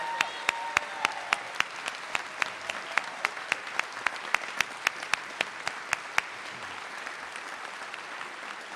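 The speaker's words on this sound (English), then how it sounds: "If we could give her another round of applause." Sustained applause from a convocation audience at a university alumni ceremony, steady dense clapping over several seconds with a few sharper claps standing out, fading toward the end.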